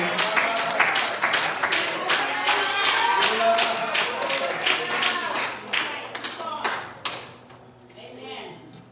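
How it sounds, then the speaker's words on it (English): A church congregation claps hands in rapid, sustained applause-like bursts during worship, loud and close, fading near the end, with voices mixed in. "Clap your hands in the Lord"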